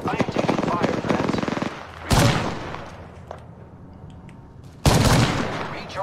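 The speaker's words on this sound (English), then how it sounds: "I am taking fire, friends." Bursts of machine gun fire in the video game Apex Legends, a loud rapid rattling volley at the start, then two sharp renewed bursts after quieter gaps, close and harsh.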